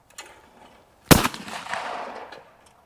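Shotgun fired at a clay target during a gun-fit lesson, one loud sharp blast with a long outdoor echo trailing off, preceded by a faint earlier sound.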